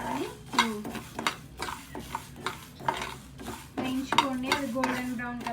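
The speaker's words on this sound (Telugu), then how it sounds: "సరే ఈ ఫ్రై చేస్తాను." Chicken pieces for pickle being stirred and fried in a pan, with repeated sharp scrapes and clinks of a spoon against the metal over a low sizzle, in an uneven, busy rhythm.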